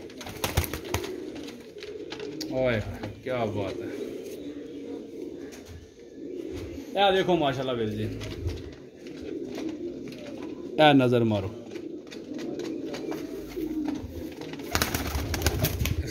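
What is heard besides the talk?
pigeons cooing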